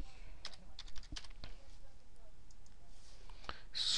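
Keys clack on a computer keyboard in short, irregular bursts of typing, close and fairly quiet, with a few isolated clicks between runs.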